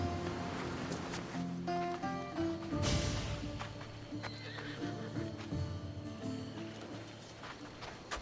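A horse in Assassin's Creed Odyssey clip-clops along at a steady pace and lets out a clear, close neigh partway through, with game music playing underneath.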